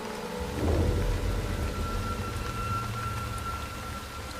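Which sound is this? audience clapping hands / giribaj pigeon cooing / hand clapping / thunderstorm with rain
thunderstorm with rain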